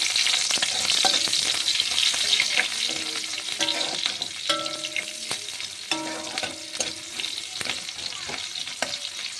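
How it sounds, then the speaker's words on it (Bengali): Onions frying in hot oil in a wok, being stirred: loud continuous sizzle with repeated scraping and clattering of a spatula against the pan, close and busy, no talking. "তেলটা গরম হয়ে কড়াটা একটু হয়ে গেছে, তারপরে পেঁয়াজ দিয়ে দেবো।"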